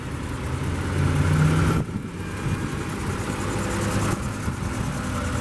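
A 2013 Lexus ES350's 3.5 liter V6 engine idles steadily nearby, a smooth low hum with a slight rise in the first couple of seconds.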